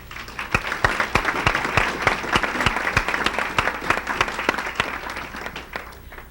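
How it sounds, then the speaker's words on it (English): A meeting room crowd gives a participant a round of applause, sharp individual claps standing out in a lively, fairly close burst that carries on for several seconds. "I would just ask her to stand so that we can give her a round of applause."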